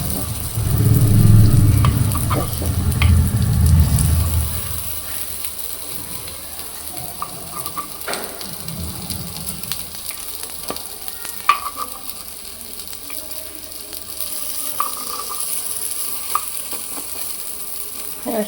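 Appe (paniyaram) frying in a cavity pan as each one is flipped, a soft continuous sizzle with small scrapes and taps of the turning utensil, after a brief louder rumble at the start.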